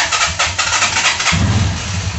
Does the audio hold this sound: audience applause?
no